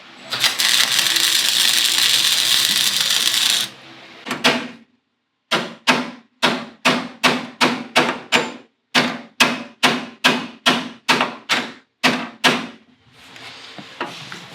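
A series of about a dozen sharp, evenly spaced hammer strikes, close and loud, after a burst of broadband noise, while building an AWD Mustang.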